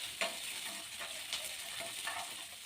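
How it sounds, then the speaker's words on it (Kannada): Green chillies fry in a pan, giving a steady, close sizzle with a few sharper crackles and brief stirring scrapes throughout, with no voices. "ಹಸಿಮೆಣ್ಸಿನ್ಕಾಯಿ ಹಾಕಿದ ನಂತರ ಫ್ರೈ ಮಾಡ್ಕೊಳ್ಳೋಣ."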